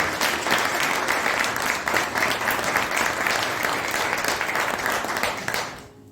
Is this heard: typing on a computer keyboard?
no